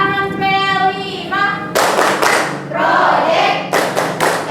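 A classroom of students claps hands in a rhythmic ice-breaking clap game, sharp bursts of group clapping following a chanted lead-in, loud and close with pauses between rounds.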